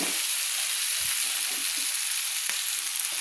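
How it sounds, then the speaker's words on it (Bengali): Eggplant is stirred in hot oil with melted tomatoes, producing a strong, continuous crackling sizzle close by, with only a few soft knocks of the spoon. Nobody speaks. "এবার বেগুনটাকে আমি একটু হালকা হালকা করে আমি তেলের মধ্যে একটু নেড়ে নেব।"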